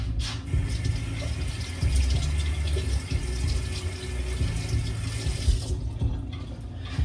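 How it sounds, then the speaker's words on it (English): Tap water runs steadily into a sink while fruit is washed beneath it, a continuous close splashing flow that thins out briefly near the end. "Let me wash my fruit."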